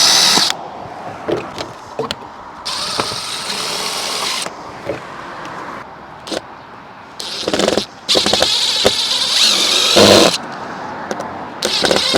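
A power drill whirs in several short, loud bursts separated by brief pauses, drilling pilot holes for an RV roof vent cover, close up and without talking.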